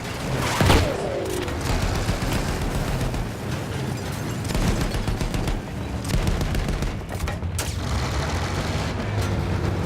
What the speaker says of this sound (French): Une mitrailleuse. Il faut la détruire.